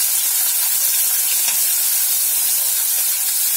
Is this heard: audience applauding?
no